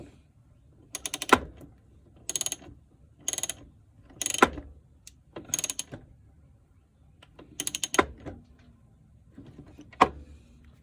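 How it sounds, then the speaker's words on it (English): A ratchet wrench clicks in short bursts as a nut is tightened to hold down the battery on a John Deere D series lawn mower, about eight quick rattling runs separated by pauses, close and clear. "just a couple of turns of the nut, and you know, the battery will be secure."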